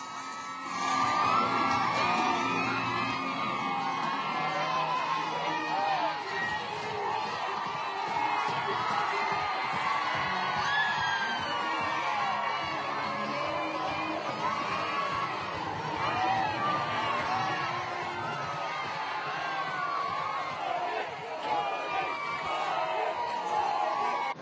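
A dense crowd cheers, whoops and yells continuously at PM Modi's roadshow in Vadodara, Gujarat, a loud, sustained roar of many voices mixed with shouting.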